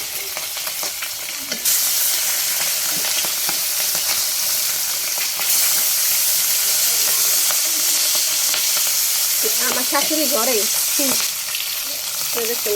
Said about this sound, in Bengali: তেলটা সুন্দর করে গরম হোক, তারপরে মাছগুলো সুন্দর মতন দিয়ে ভাজা শুরু করেছি